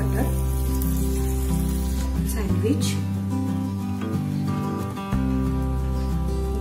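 A sprout sandwich sizzles on a buttered griddle over low gas, a continuous crackling fry beneath a person speaking throughout.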